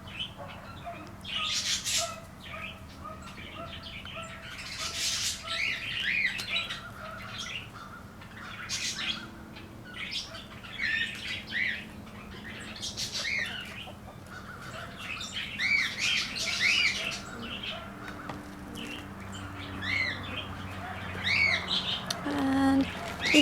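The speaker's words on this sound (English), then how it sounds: "There are chickens and pigeons over there." Chickens and pigeons in a backyard garden give repeated squawks and calls scattered across the whole stretch at moderate distance. A steady low outdoor hum sits underneath, and no one talks.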